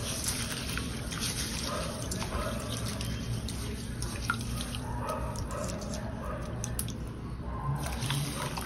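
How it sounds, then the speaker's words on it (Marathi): Red poha and fenugreek seeds being washed in water for a foxtail millet dosa batter: soft sloshing and dripping with small splashes in a quiet kitchen, close and fairly faint. "आता हे सगळं आपल्याला पाण्याने व्यवस्थित 2 ते 3 वेळा स्वच्छ धुवून घ्यायचे"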